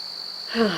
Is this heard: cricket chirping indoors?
yes